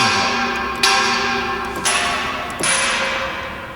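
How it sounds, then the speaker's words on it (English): A mechanism striking a radiator in a building rigged to be played as an instrument: three metallic ringing strikes at roughly one-second intervals, each sustaining a bright, bell-like resonance that overlaps the next. "I'm not sure if that's hitting the radiator or that's hitting that radiator over there."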